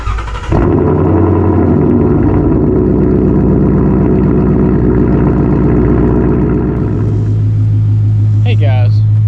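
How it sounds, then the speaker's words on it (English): Steady, loud engine rumble from a white Ford Mustang while driving, a continuous low drone heard from inside the car that shifts in pitch near the end. "We're going to take a wonderful ride in this nice white Mustang here."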